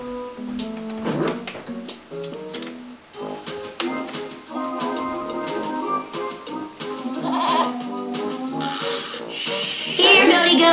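A goat bleats amid a busy cartoon soundtrack, its wavering cries sitting over bright tuned music that runs throughout and swells toward the end.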